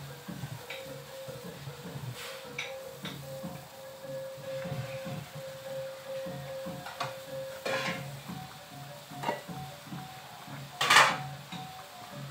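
A lid clanks onto a cooking pot of Dayak-style ikan popot fish. Quiet kitchen clatter plays throughout, with one sharper metallic knock near the end.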